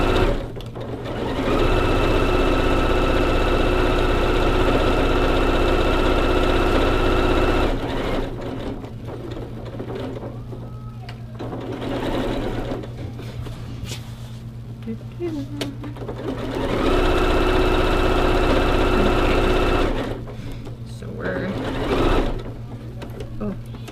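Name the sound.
sewing machine stitching a mini quilt pillow corner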